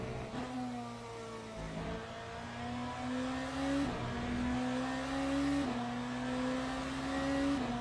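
Race car engine in the Le Mans Ultimate sim racing game, a steady loud drone rising in pitch through each gear and dropping at the shifts, repeating several times with no talking.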